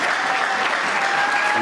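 A church audience breaks into loud, sustained applause and acclaim in praise of the Lord, a dense unbroken clatter of clapping filling the room.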